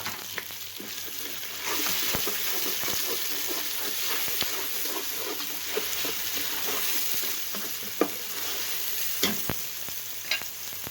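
Finely chopped medium onion fries with garlic and ginger for a cauliflower chicken dish, a steady close sizzle broken by sharp clicks of a spoon stirring against the pan.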